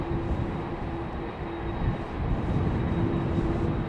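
Boeing 767-300ER airliner at Schiphol Airport, a continuous heavy engine rumble with a faint steady whine, moderately loud and fairly distant, swelling slightly toward the end with no talk.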